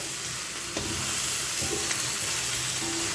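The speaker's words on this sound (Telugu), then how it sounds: "ఒక ఐదు నిమిషాలు ఇలాగ ఫ్రై చేద్దామండి" Mutton and chicken fry in a pan with soy sauce, giving a steady, close sizzle with occasional stirring scrapes throughout.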